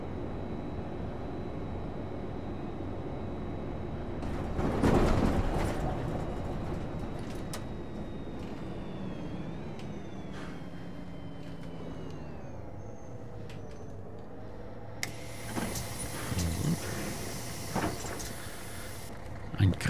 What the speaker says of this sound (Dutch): die bus kan goed lawaai maken